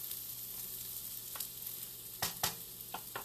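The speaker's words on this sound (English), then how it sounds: "we are just quickly sauteing them" Chinese-food ingredients, some cut into triangles, sautéing in a hot pan, with a steady low sizzle punctuated by a few sharp clatters and scrapes of stirring near the end.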